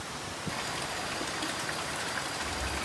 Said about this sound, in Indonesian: terdengar suara gemericik aliran sungai yang ada di sebelahnya